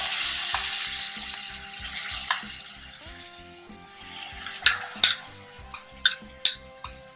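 Spinach (palak) stirred into onion masala in a pot for green pulao, frying with a steady loud sizzle, followed by several sharp clinks of a utensil against the pot.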